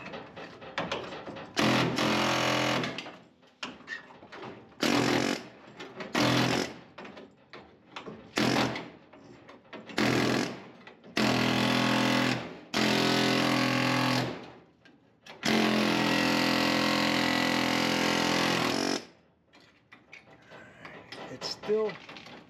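A power drill bites into a welded tail light tray on a 1970 Chevrolet Nova, running in several loud bursts of varying length with short pauses between, the longest near the end, close up, with no talking.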